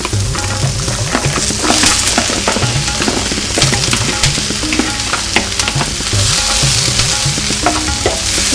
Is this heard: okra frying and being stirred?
yes